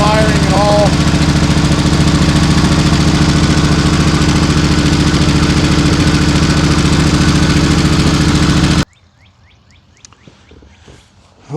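A Ford 390 V8 idles roughly with one cylinder misfiring, a loud, close, uneven lumpy rumble that runs for most of the clip and then cuts off abruptly into near silence.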